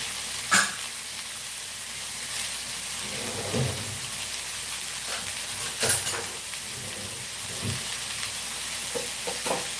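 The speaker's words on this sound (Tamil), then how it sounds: "இப்போ தக்காளி நல்லா வதங்கிடுச்சு இன்னும் கொஞ்ச நேரம் வதங்கினா இதில் நம்ம ரைஸ் போட்டு கலந்துடலாம்" Tomatoes sauté in a hot pan with a steady close sizzle, broken by a few louder scrapes and stirs of a spatula against the pan.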